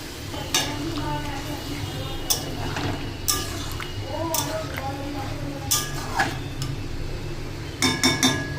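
Water goes into a pan of frying vegetables with gaathi and potato. A steady, close sizzle runs throughout under a voice, broken by repeated metallic clinks and scrapes of stirring.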